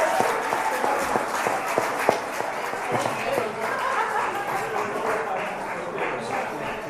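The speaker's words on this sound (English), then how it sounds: "Let's give them all a big round of applause." Members at a Rotary club meeting give sustained, steady applause with a few distinct close claps, and voices and light laughter mix in beneath the clapping.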